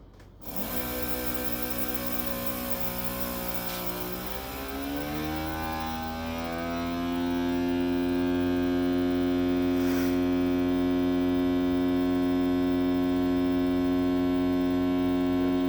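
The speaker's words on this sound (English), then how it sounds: "Vacuuming them up." An Avid Armor Magicvac Maxima2 vacuum sealer pulls air from bags of steak with a steady, close motor drone and a hum. The pitch rises gradually and then holds level as the vacuum builds.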